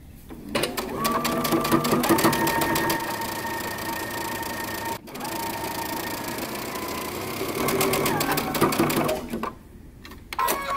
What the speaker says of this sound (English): I'm going to stitch mine down just a tad on each side